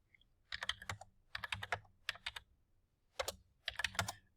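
Quiet bursts of typing on a computer keyboard, five short flurries of clicking keys separated by brief pauses, close but soft, with no voice.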